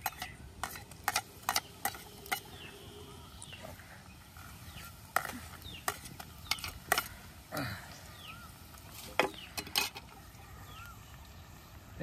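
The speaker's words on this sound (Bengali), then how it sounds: "এবার এগুলো দিয়ে একটু ভালো করে আবার নাড়াচাড়া করা লাগবে।" A spatula stirs frying onion with ginger-garlic paste and green chili paste in a pan. Repeated sharp scrapes and clicks sound close over a soft, low sizzle. No voices are heard.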